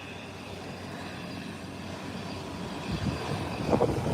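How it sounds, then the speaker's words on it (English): A Twin Otter turboprop arriving from South Caicos rumbles at a distance, its drone swelling gradually louder toward the end with no talking. "This Twin Otter is coming out of South Caicos, the fishing capital."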